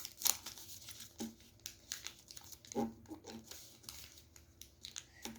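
Paper being folded into origami triangles for a sunflower spinning top, heard as soft, close crinkles, creases and rustles in short irregular bursts with pauses between, quiet and with no voices.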